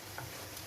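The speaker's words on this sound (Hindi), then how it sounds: "ये देखिए बैंगन मेरे फ्राई हो रहे हैं" Eggplant (baingan) fries in a pan with a brief, steady, faint crackling sizzle, close by, with no one talking.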